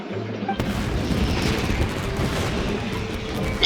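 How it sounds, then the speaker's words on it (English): Fireworks burst in Genshin Impact, a dense run of booming, crackling explosions that follows a brief tone and keeps going for several seconds with no talk. "Yoimiya, this is turning into a bit of a fireworks display."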